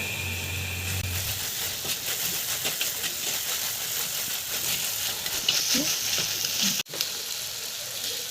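Ginger garlic paste frying in a pan for crab fry, a steady close sizzle with scraping stirs that keeps on under the cooking, ending with a sharp knock near the end.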